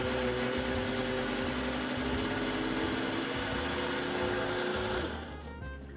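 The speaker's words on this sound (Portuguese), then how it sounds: "Esse liquidificador é bom." A blender whirs steadily at high speed with a loud, dense motor drone, then winds down and quiets near the end.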